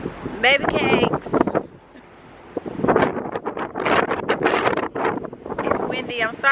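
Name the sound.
wind blowing into the microphone at Hoover Dam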